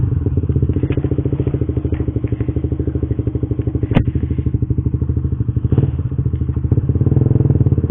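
A Suzuki GSX-R 150 motorcycle engine runs steadily up close with a rapid, throbbing pulse, punctuated by a few sharp clicks and clatters.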